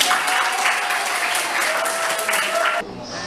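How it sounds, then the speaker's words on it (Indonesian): A high school class breaks into lively applause, a dense burst of clapping from students in a classroom that cuts off abruptly after about three seconds. "Bagus, tepuk tangan."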